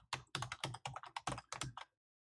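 Code is typed on a computer keyboard, producing a quick run of about a dozen soft, close key clicks in steady succession before stopping, with no voices.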